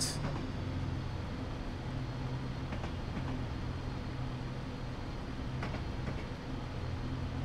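Class 172 Turbostar diesel train running through a tunnel toward Crouch Hill in Train Simulator 2017, a steady low rumble and hum throughout with faint rail clicks, no talking.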